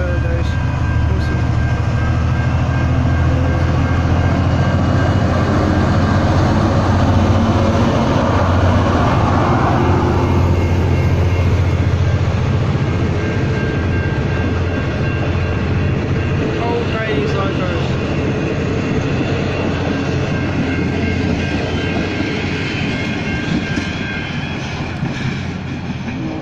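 V/Line N451, an old 1980s diesel locomotive, passing close and loud at South Geelong with a sustained heavy engine drone and rumbling wheels that gradually fade toward the end.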